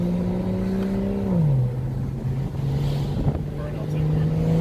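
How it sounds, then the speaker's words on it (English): Car engine humming steadily from inside the cabin, its pitch dropping smoothly as the revs settle during a rev-matched downshift, then holding a low drone with faint knocks and road noise. "You feel how it rev matches?"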